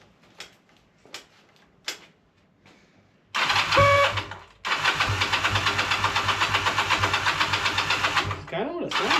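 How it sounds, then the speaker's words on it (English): A car engine cranks and then runs roughly with a pulsing, stuttering rhythm, as if it has run out of fuel, following a few short knocks, with a brief tail at the end. "Kind of sounds like it ran out of fuels."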